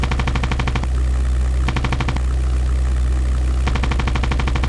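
Rapid machine gun bursts from a P-51B Mustang in the flight combat game European Air War, loud and close over a steady droning engine hum, with several separate bursts of fire.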